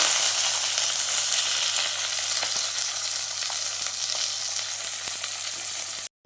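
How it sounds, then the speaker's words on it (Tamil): Dried red chilli, cinnamon pieces and mustard seeds splutter in hot oil for rava kichadi, a dense continuous crackling hiss with tiny pops throughout, steady and close, cutting off abruptly at the end. "ஒரு வரமிளகாய், 2 துண்டு பட்டை, கொஞ்சம் கடுகு. இதை நல்லா பொரிய விட்டுக்கலாம்."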